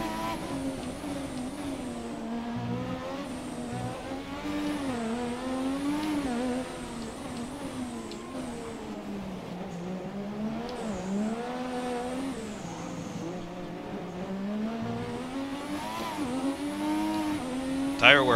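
McLaren MP4/4 racing in F1 2017, its engine note rising and falling steadily through corners with tires squealing under load, loud and continuous with no talk.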